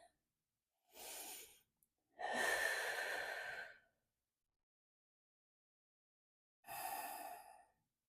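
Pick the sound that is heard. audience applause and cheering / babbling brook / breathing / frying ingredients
breathing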